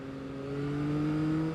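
Engine of a 2024 Yamaha XSR900 motorcycle revving, a steady droning tone that swells slightly in loudness and holds for a moment, heard clearly and fairly close with no talking.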